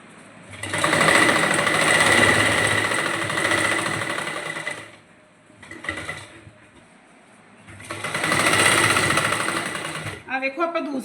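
A sewing machine stitches lace along the hem of a salwar in bursts of loud, steady whirring that stop briefly and restart; a voice speaks near the end.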